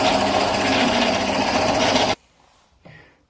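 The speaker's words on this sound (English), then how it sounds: "I need to drill that 2 centimeters down, or 20 millimeters." Drill press boring into wood for a pepper grinder, a loud steady whirring drone that cuts off abruptly partway through, leaving near silence and a brief faint clunk afterward.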